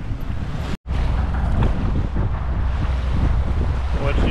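Strong wind roars and buffets the microphone near a big highway bridge on Highway 190 during fishing, a loud continuous rush with a brief dropout early on.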